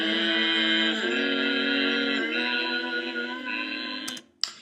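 Three layered vocal tracks sing a sustained harmony with uneven volume across the parts, held notes shifting pitch together, close and dry, ending with a brief click.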